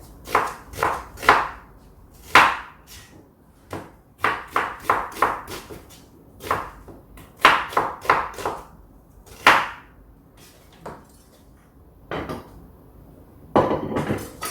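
A knife chops vegetables for japchae on a cutting board, with sharp, crisp knocks in quick irregular bursts of several strokes and short pauses between, close and clear with no voices.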